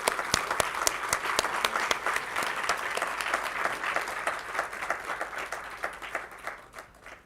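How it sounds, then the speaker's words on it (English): Large convocation audience applauding meritorious students, a dense, steady wash of many hands clapping that carries on for several seconds before gradually thinning and fading out. "Let us give a huge round of applause for the meritorious students."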